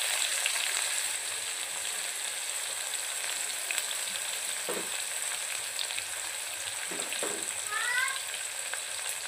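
Onion with bay leaf and whole spices frying in a pan for a pressure-cooker mutton curry, a continuous close sizzle throughout with a few faint knocks, and a brief high chirp near the end.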